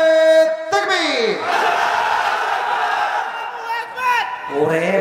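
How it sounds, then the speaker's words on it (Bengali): A large crowd at an outdoor Islamic sermon (waz) in Sirajganj shouts the takbir in unison, a loud sustained roar of many voices between stretches of a preacher's amplified, echoing speech. "জাস্ট বিবাহিতরা তাকবীর দিবেন, সিঙ্গেলরা চুপচাপ।"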